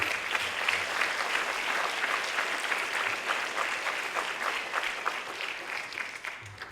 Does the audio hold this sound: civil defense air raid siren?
no